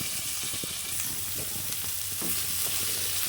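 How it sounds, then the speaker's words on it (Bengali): Onion, garlic, ginger and tomato frying in oil in a kadai, stirred with a spatula, giving a steady close sizzle with soft scraping strokes throughout and no voices. "দিয়ে ভালো করে এগুলোকে নাড়াচাড়া করে নিয়ে হালকা করে একটু ভালো করে ভেজে নিয়ে"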